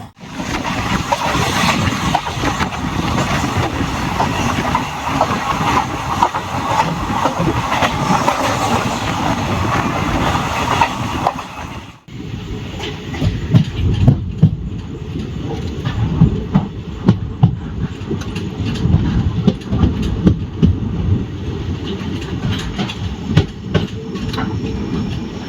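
A Chennai to Thiruvananthapuram Superfast Express runs steadily with loud, continuous rumble and clickety-clack of wheels on rails. A brief dip near the midpoint is followed by a slightly lighter, rattling ride.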